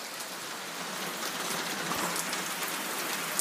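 Steady rain pours down, a dense even patter of drops on surfaces with no voices, constant and fairly close throughout.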